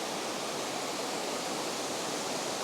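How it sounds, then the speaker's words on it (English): A waterfall at Richey Ridge Falls on the Cumberland Trail pours in a dense, steady broadband roar, constant and fairly close from start to finish with no voices. "right up here are the 2 main falls"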